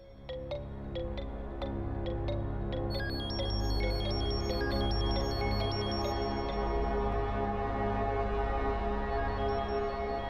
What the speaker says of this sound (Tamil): ஃபோன் ரிங் ஆகுதுடா உள்ள